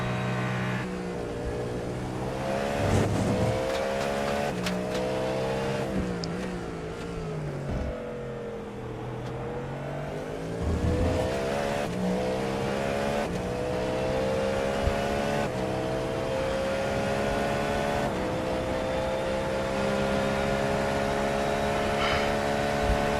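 Several GT3 race car engines whine and rev in a racing video game at Circuit de la Sarthe, pitches sliding up and down as cars accelerate and pass, with a steady engine drone throughout.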